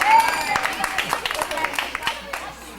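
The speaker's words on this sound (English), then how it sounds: "Don and Jackie, you want to give them an applause for coming?" Wedding guests in a hall give a short round of scattered applause, light claps pattering close by under ongoing voices.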